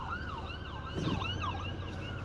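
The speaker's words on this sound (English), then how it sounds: "It's an ambulance coming." An ambulance siren wails through traffic, its rising and falling tone carrying at moderate distance over a low road rumble, with no one speaking.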